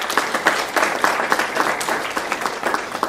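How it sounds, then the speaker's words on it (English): Audience applause at a community honor event, a steady wash of many hands clapping for about three seconds, fairly loud and continuous with no talk over it. "So, really just give them a round of applause for their courage."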